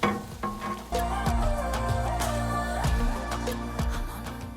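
Onions and provolone for Philly cheesesteaks sizzling on a Blackstone griddle, a steady close hiss with occasional scraping and spatula taps throughout.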